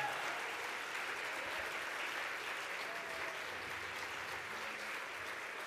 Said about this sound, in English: I think we should give a round of applause to all of our nominees this evening.